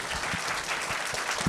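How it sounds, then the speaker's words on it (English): After a civic panel discussion, the audience gives the panelists a round of applause: a brief, steady wash of many hands clapping at moderate loudness, with no speech. "Please give a round of applause to our panelists"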